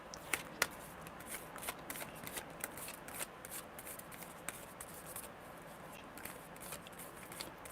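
Tarot cards being shuffled with rapid, crisp riffling and flicking, two sharp snaps early on, continuing steadily for several seconds without talk.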